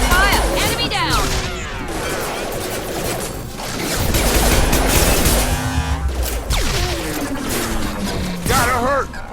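Gunfire and combat blasts in the Mass Effect 2 video game, with repeated shots and impacts crowding a busy battle mix while voices call out over the fighting.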